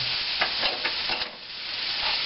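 Garlic sizzles loudly in a hot cast iron skillet, a dense steady frying hiss with a few stirring scrapes, close up and with no voices.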